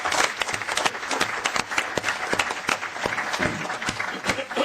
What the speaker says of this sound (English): I ask you to join me in a round of applause for each one who's taking a new position and for Mike who's retiring.